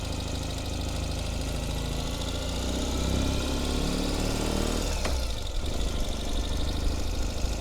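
A 2021 Ural Gear Up motorcycle engine pulls in second gear, a steady close throb that builds slightly in loudness midway with a brief rise in pitch, heard alone without speech.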